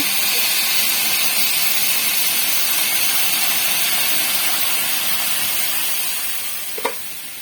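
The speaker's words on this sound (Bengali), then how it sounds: "এবার জল দিচ্ছি।" Water poured into a hot pan of sautéed curry sets off a loud, steady hiss and sizzle that holds evenly and fades slightly near the end, with a brief clink just before it trails off.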